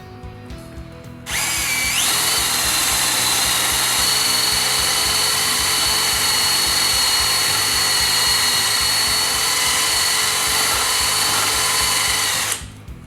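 A metal-free wheel hub grinder attachment on a drill spins up and grinds around wheel studs. The loud, steady high-pitched whine holds for about eleven seconds and then stops abruptly.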